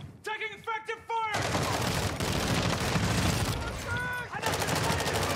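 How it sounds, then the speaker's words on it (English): Rapid bursts of automatic gunfire from a Call of Duty Halloween mode match, loud and sustained with dense overlapping shots, after a short stretch of voices at the start. "Taking effective fire!"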